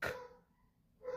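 A dog gives two short barks, one at the start and one at the end, with a quiet gap between them, moderately close and with no talking.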